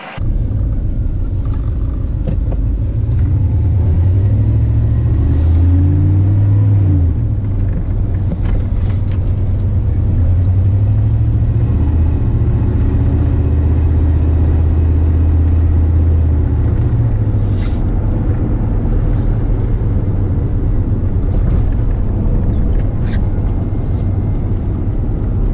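A 1993 pace truck with a short bed drives along, its engine giving a loud, steady low rumble that holds throughout with slight shifts in pitch and no voices.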